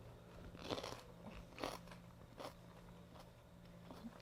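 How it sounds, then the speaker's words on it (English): Crisp, crunchy garden food with lettuce is bitten and chewed close up, with several distinct crunches in an uneven rhythm and no talking over them. "I love that crunch."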